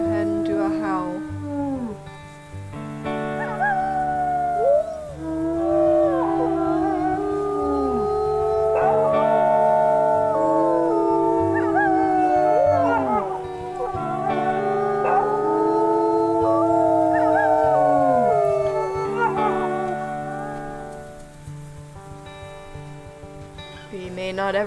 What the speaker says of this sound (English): Let's go ahead and do a howl.